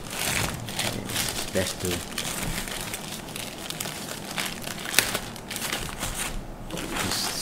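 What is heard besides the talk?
unwrapping plastic packaging of a solar charge controller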